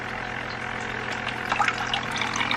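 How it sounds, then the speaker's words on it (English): Water runs from a tube into a bucket during drip acclimation of a native fish, a soft continuous trickle with small splashes over a low steady hum, close and fairly quiet. "it'll drip water into this bucket"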